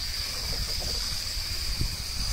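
A garden hose runs water continuously, giving a steady rushing hiss with small irregular sputters, close by and without talking.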